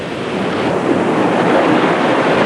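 Pacific Ocean waves wash onto a beach in a continuous loud, hissing roar of surf, close and steady with slight swells in intensity.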